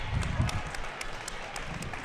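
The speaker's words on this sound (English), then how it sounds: "They should get a good hand from the home crowd" Home crowd at a high school basketball game applauding steadily in a large gym, a dense wash of clapping that holds through the moment with faint voices mixed in.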